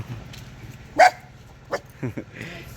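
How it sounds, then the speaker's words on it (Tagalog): A dog gives one sharp bark, followed by a few softer yips and whines, close by in a quiet setting. "Pero may aso."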